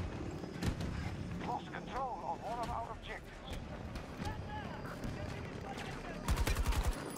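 Rapid gunfire rattles in bursts amid a busy Battlefield 2042 battlefield, with distant shots, engine-like rumble and scattered effects, while a player talks over the action and a loud close volley closes it out.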